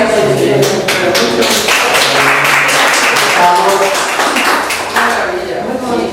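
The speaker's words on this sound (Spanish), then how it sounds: "Aplaudimos" Applause from a Catholic talk audience after a prayer about the Virgin Mary, a loud, dense burst of many hands clapping up close, steady and then tapering toward the end.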